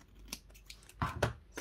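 Scissors cutting paper while making an envelope with pockets, a few crisp close snips, the last ones louder and quicker, in a quiet room.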